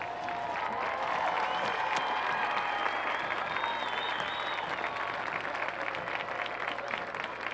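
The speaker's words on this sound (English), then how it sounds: "One more round of applause" Stadium crowd applauds the Chardon youth football athletes at a 2012 high school football game against West Geauga, a steady, broad roar of clapping with light cheering, spread across a large outdoor space and carrying on without pause.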